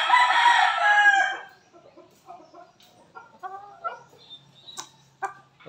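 A Boston Roundhead gamefowl rooster crows loudly and close for over a second, then the bird clucks softly in short scattered calls, with a faint chirp and a few sharp bursts near the end.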